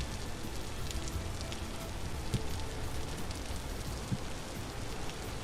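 Rain falls steadily in the Vintage Story voxel survival game, a soft, continuous patter with scattered drop ticks and no talking over it.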